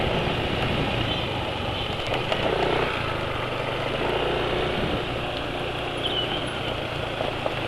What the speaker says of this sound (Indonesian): suara mesin sudah lebih halus daripada sebelumnya, daripada kemarin